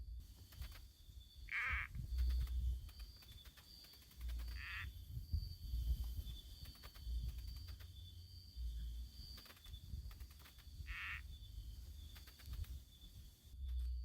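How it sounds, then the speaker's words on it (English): A female golden tree frog calls in a natural outdoor setting: three short, separated chirping bursts rise over a steady background of insect hum and low rumble. "There are some female frogs that do call, but this is a female here."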